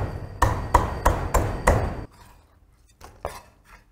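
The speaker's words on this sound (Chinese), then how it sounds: "这条鱼比较小， 直接给它剁。" A small fish being chopped for fish soup with a cleaver on a board: five loud, evenly spaced heavy chops, a short pause, then a few lighter knocks, close and with no talk.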